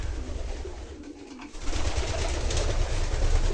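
Pigeons coo in a straw-lined loft where males have fought and a hen sits on two eggs, a soft, continuous bird murmur that grows louder and denser halfway through.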